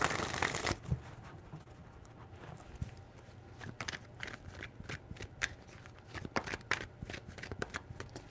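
Close, quiet riffling and tapping of a tarot deck being shuffled in repeated short bursts, with no one speaking.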